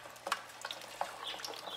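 Chicken wings, already boiled, sizzle in hot oil with faint crackles and a few sharper pops, steady and close.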